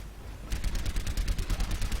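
Rapid automated turret gunfire in Overwatch, a fast burst of repeated shots that starts abruptly after a brief quiet lead-in and keeps rattling at moderate volume.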